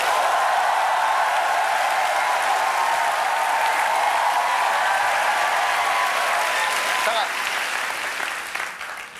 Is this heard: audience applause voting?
yes